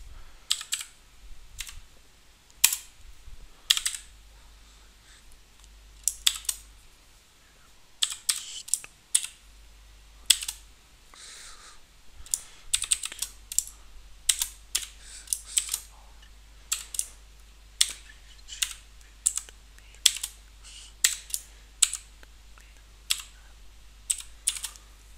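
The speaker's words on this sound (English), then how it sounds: "you need to punch in the key that you have" Keys on a computer keyboard tapped in irregular bursts while a software license key is entered, crisp close clicks spaced by short pauses, with no talking.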